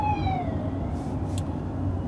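An ambulance siren sweeps past a 2019 Mercedes GLE 450 on a highway in traffic, its falling wail briefly clear above the steady low road and engine rumble inside the cabin.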